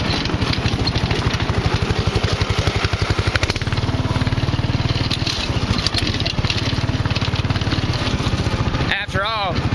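An off-road go-kart with a Predator 420cc engine running over dirt, a loud, steady pulsing engine chug with wind noise and rattling, while a person talks over it.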